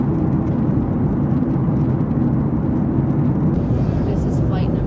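Steady, loud roar of an airliner cabin in flight, a constant broadband engine and air rush filling the whole stretch with no pauses.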